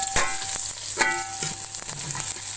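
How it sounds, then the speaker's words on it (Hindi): Long-sliced large onions frying in a pan for a Pakistani aloo gosht, a steady close sizzle with faint stirring scrapes and clinks of a spoon, no talking. "अब इस प्याज को ब्राउन कर लेंगे।"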